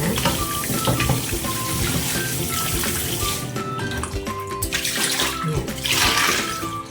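About six pork bones are rinsed and scrubbed clean in running water, a steady splashing and rushing close by with clinks and sloshes throughout.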